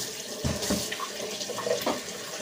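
Water flushing and spraying through the spigot of a Keurig K-Select coffee maker, a broad splashing rush with brief surges, close and steady throughout without any talk.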